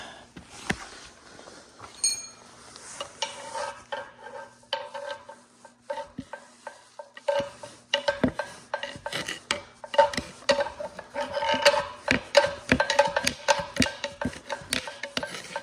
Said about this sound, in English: I'll keep chiseling away at it, and maybe I'll try to find a longer bit